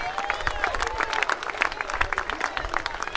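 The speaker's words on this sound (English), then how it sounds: "Give a round of applause, please." A crowd applauds a company president at the podium during an Omaha event, many hands clapping in a dense, steady patter throughout, with scattered voices mixed in.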